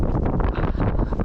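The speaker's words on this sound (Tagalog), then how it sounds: "Lakas ng hangin." Strong mountain wind in the Blue Mountains roars and buffets the microphone continuously, loud and close, with no clear voices.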